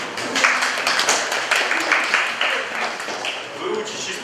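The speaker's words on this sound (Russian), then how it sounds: "Аплодисменты," A student audience from a law institute of an agrarian university applauds in a lecture hall, with moderate, fairly even clapping and a murmur of voices underneath.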